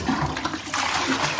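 Toilet flushing in a residential bathroom, a loud continuous rush of water filling the whole moment, close by with no voices.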